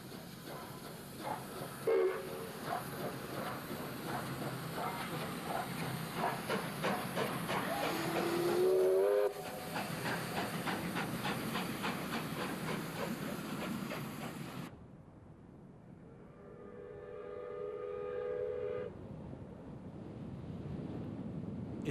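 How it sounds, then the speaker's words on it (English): South Australian Railways steam locomotive 621 Duke of Edinburgh runs alongside a highway in evening light, a steady hissing chuff with rhythmic beats and a brief whistle, fading to quieter rumble near the end. "both locomotives do their best to outpace traffic on the adjacent Western Highway"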